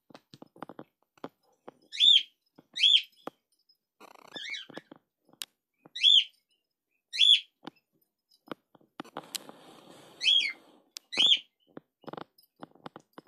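Pet birds chirp in short bright bursts, about eight calls spread across the stretch, close by, with soft clicks and rustling between them.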